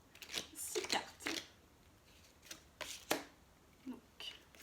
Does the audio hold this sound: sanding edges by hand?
no